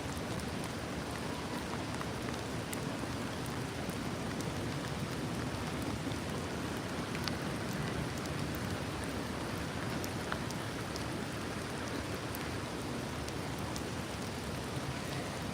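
Outdoors in the UK, rain pours down in a dense, continuous hiss, steady and close with faint scattered drop ticks, and nobody speaks.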